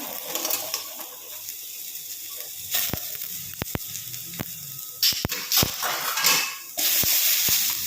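Metal spoon clatters and scrapes in a kadai as tomato, onion, dried red chillies and garlic fry in oil, with sharp repeated knocks over a low, steady sizzle, close and fairly loud.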